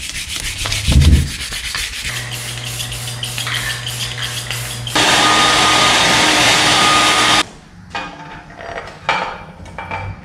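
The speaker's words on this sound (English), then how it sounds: "So I think I'll give this a rough sanding and a coat of silver paint." Steady, loud abrasive rubbing of rough sanding on a part of a retro Trek 8300 mountain bike goes on for several seconds, with a harsher stretch in the middle, then trails off into lighter scraping and taps.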